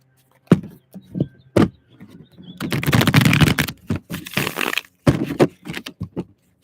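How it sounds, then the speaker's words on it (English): Playing cards are riffled and shuffled nearby, with sharp snaps and a long rapid fluttering run, then a few more taps and shuffles. "Let me shuffle that one more time."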